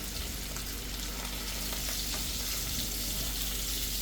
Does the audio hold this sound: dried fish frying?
yes